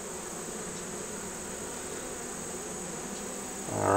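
Honey bees hum steadily and closely in an opened beehive, a constant even drone, with a brief rising scrape at the end.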